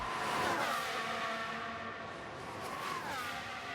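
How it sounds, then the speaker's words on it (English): F1 race cars lapping a circuit in the F1 Manager 2022 video game, a steady high engine whine with rising and falling pitch as cars pass, heard alone at moderate level. "We'll get them cars out on the circuit now."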